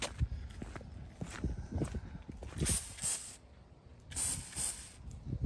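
An aerosol spray can fitted with a hack spray nozzle gives two short, faint hissing bursts, with soft handling knocks and shuffling sounds around them and no talking.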